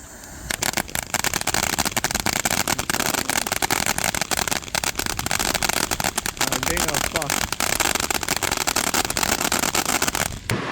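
An Ashok brand Jolly Bobby Mocktail firework fountain erupts in a loud, continuous crackling and hissing spray that holds steady for about ten seconds before cutting off abruptly.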